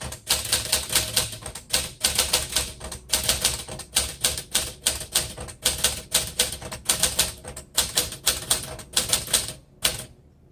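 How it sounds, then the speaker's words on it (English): A 1949 Smith Corona Sterling vintage typewriter is typed on in quick, uneven bursts of sharp key strikes, close and loud, with brief pauses between clusters. "So let's do the quick brown fox again."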